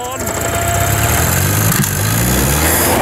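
An old, abandoned Land Rover engine runs loud and close, roaring steadily with uneven revving and a rough, throaty tone, while a voice speaks over it.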